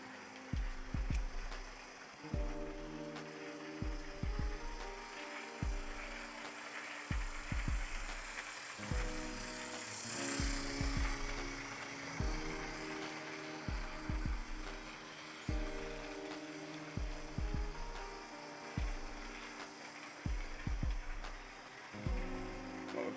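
Lima model locomotive running on a layout track at low power, giving a faint steady rhythmic clicking of wheels over rail joints under a soft continuous motor whir.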